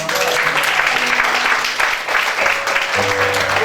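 A church congregation gives the Lord a steady, full round of applause that fills the room throughout, with faint tonal sounds in the background.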